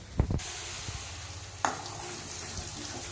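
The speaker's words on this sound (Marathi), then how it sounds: "मस्त असे फ्राय होऊ द्यायचे त्याला।" Ground masala paste of onion, garlic, ginger and green coriander fries in a pan for kaju curry, a steady hissing sizzle that swells suddenly as if freshly stirred, with a few low knocks early on.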